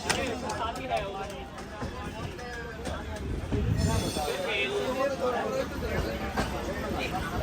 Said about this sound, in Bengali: আর কলকাতা থেকে বেরোচ্ছে ট্রেনটি